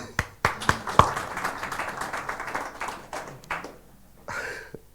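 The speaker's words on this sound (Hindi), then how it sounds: "क्यों ना एक ताली बजाए" A church congregation at a Christmas service gives a scattered round of clapping, with sharp separate claps early that thin out into a few sporadic hits and fade near the end.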